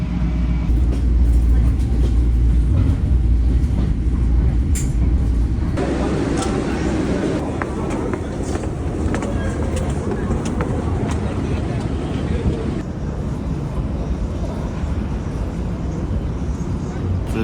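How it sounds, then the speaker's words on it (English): A passenger train rides through the night around midnight, with a steady, loud rumble and rattle that continues throughout the ride and shifts in tone partway through. "I'm just getting out on the train and it's midnight"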